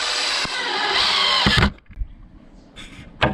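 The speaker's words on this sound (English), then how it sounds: "Now we're going to screw in this side also with 3 screws." A power drill drives screws into the wooden frame of an 8 by 4 foot raised garden bed, one loud sustained whirring burst that stops abruptly, followed by quieter clunks and a short final buzz of the drill.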